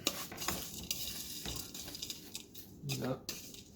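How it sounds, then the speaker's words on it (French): Crushed palets bretons butter biscuits being stirred into a strawberry tart base: close, irregular scraping and knocking of a utensil against a bowl, with soft squishy mixing between strokes. "bien mélanger."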